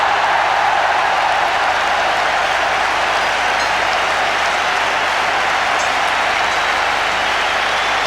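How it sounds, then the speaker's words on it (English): A packed cricket stadium crowd at a 1996 World Cup semifinal between India and Sri Lanka roars and applauds in a steady, dense wash of cheering that lasts throughout. "Listen to the crowd."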